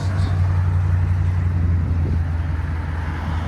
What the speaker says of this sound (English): One of my favorites actually is the hooker exhaust. It sounds really good on this.